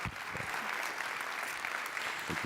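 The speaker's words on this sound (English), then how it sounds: "A huge round of applause, please, for Robert" An award ceremony audience at ZeroCon23 gives sustained applause for an awardee, a fairly soft, distant-sounding spread of many clapping hands that holds steady throughout, with a brief voice near the end.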